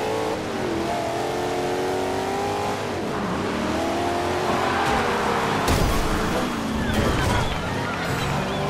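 Car in Forza Horizon 2 revving and accelerating hard, a loud continuous engine roar with rising and falling pitch, scrapes and rushing noise, with a voice talking under it.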